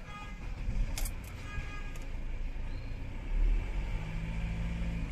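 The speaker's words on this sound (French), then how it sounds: "je vais démarrer la voiture" Car engine, with the check engine light on, idling at a steady low rumble close by, with a slight surge partway through.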